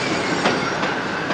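A train rides along the rails with a dense, steady rumble and roar, faint clacks of the wheels passing rail joints, heard close and loud.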